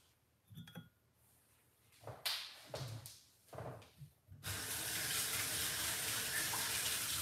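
Garlic cloves rinsed under a running kitchen tap: a few light clinks and handling knocks in a cup, then steady loud splashing water from about the midpoint to the end, with no talking.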